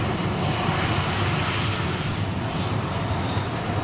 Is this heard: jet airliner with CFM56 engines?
yes